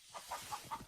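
A chicken clucks in a game scene, four short rhythmic clucks in under a second, fairly quiet and alone without talk.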